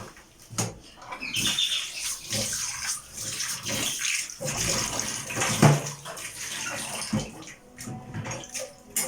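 Water from a tap runs steadily while a kitchen sink basin is rinsed, splashing and gurgling close by with a few louder splashes and no talking.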